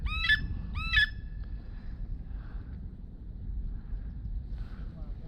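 A duck call blown during a duck hunt sounds two quick, loud honking quacks near the start, then fainter scattered calls over a low rumble of wind and background noise.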